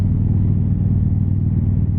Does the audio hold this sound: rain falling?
no